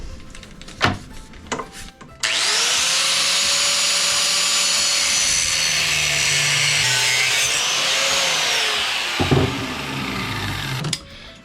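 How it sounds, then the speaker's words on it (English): An angle grinder cuts through flat bar steel in a long, loud, steady whining run of about nine seconds, with a few short clatters before it starts and as it winds down. "So I've got my grinder, I'll cut that off."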